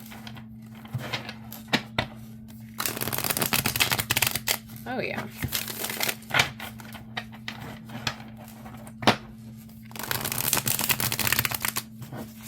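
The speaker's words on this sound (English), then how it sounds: "let's see how it shuffles" Tarot cards with soft-touch, anti-scratch cardstock are shuffled in repeated bursts of rapid riffling and flicking, with softer taps in between and a brief spoken remark.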